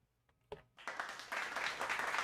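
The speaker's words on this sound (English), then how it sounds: "Clapping for the start of the stream." Applause begins from near silence after a few scattered claps, then builds quickly into steady clapping that grows louder and fuller over a couple of seconds.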